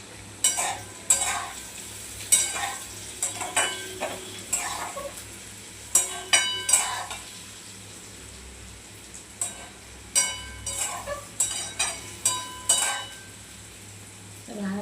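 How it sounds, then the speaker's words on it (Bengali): Pointed gourd and potato slices sizzle in a pan while a spatula scrapes and stirs them in repeated sharp clinks, close up with a steady frying hiss underneath. "ভাজাটা মনে হচ্ছে হয়ে গিয়েছে"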